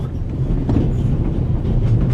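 Inside a moving train in the adventure game The Raven: a steady low rumble with rhythmic clatter of wheels on rails, continuous and fairly loud throughout, with no voices.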